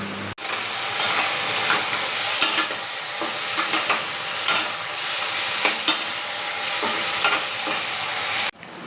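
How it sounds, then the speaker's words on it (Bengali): Cut potatoes frying in hot oil in a pan give a loud, continuous sizzle with intermittent scraping and stirring clicks, no one talking, before an abrupt cutoff. "তো এবার আলুটা কেটে নিই আর ভাজি।"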